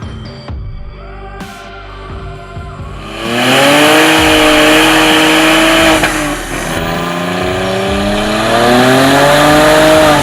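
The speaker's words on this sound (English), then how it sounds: "It was spinning on the dyno when I hit the gas." Turbocharged nitrous BMW 135i accelerating hard on a dyno with its wheels spinning: a quieter idle gives way to a loud, sustained engine roar that climbs in pitch, dips briefly, then keeps rising at full volume.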